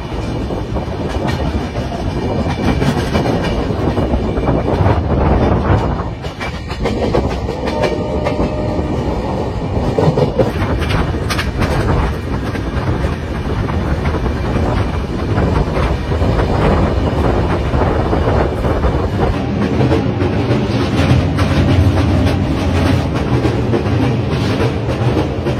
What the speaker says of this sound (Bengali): ট্রেন ঢুকেছে mining industrial area Bokaro still সিটিতে